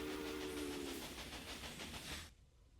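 A locomotive in the railway management game Railway Empire runs with a steady rhythmic chugging and hiss, with a brief whistle-like tone at the start, then cuts off abruptly.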